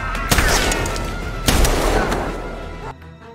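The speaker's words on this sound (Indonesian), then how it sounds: "Ketika mendengar suara tembakan" Gunfire in a gangster film, loud close shots and bursts ringing out over a low rumbling score, with a couple of sharp standout reports before the sound cuts to quiet.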